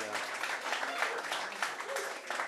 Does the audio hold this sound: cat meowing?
no